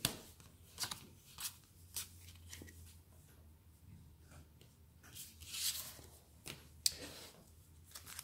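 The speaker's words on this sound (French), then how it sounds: "j'ai mélangé les cartes encore, comme d'hab" Pokémon trading cards being shuffled and handled, with soft riffling and several sharper flicks and snaps, quiet and close.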